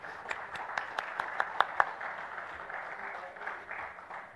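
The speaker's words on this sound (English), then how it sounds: "Let's have a huge round of applause for our presenters as well." Audience applause for presenters at the Sony Better Photography Wedding Photographer of the Year awards, a short burst of crisp claps that peaks in the first two seconds and then fades into a soft room murmur.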